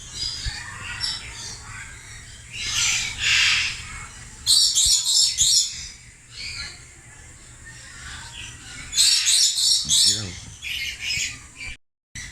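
Harsh, loud lory parrot squawks burst out in clusters at a zoo, with chirps and quieter calls between them and a busy, chattering background.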